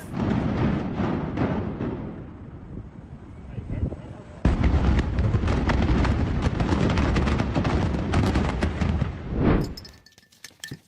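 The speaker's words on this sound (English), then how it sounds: "A rocket from Japan exploded shortly after launch." Japanese rocket exploding shortly after launch, a loud continuous roar with dense crackling bursts, a sharp jump in intensity midway and a sudden drop to quiet near the end.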